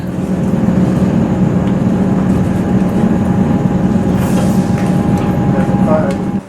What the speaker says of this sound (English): Continuous wheel and rail noise, air displacement, and brake systems.